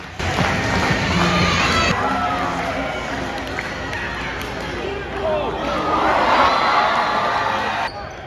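A packed school gym crowd cheers and chatters during basketball halftime as a dance performance goes on, with a continuous roar of voices and shouts, sneaker and floor noise beneath, rising louder toward the end.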